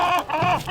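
A backyard chicken gives a short, close, nasal cluck of two quick notes, heard on its own without any talking.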